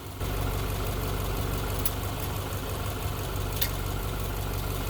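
A 2008 Subaru Impreza engine idles steadily in park during a transmission fluid drain and fill, with a low, even rumble and faint rhythmic knocking, with two brief high clicks.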